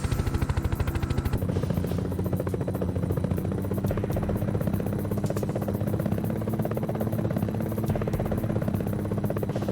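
Helicopter rotors in the video game PSXplosion Gunship chop in a steady, rapid, loud thudding pulse that keeps going without a break, with a constant engine drone underneath.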